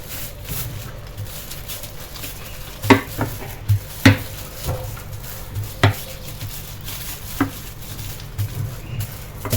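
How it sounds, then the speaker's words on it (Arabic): Rolling pin gently pounding sablé cookie dough, a series of soft, irregular thuds, about a dozen light knocks spread over several seconds, close and clear over a quiet kitchen background. "غادي ناخذ المدلك وغادي نبداو نطرقوا في العجين تاعنا بهذا الشكل غير بشويه"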